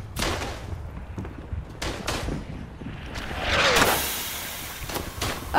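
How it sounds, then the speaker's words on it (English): Gunfire in the First World War shooter game Verdun, several sharp shots and distant bangs scattered across a noisy battlefield din, with one louder rushing blast midway and no talk over it. "Someone's shooting at me."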